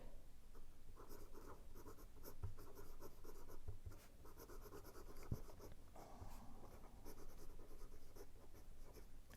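Steady scratchy nib strokes of a Benu Euphoria Confetti Milkshake fountain pen with a medium nib gliding across paper, continuous soft writing close up with brief pauses between words.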